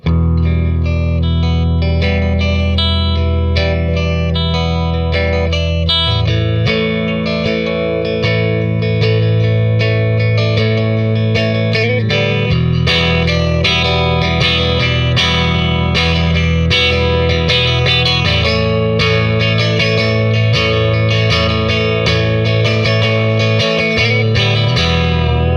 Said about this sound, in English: Now we've got both pickups together in parallel.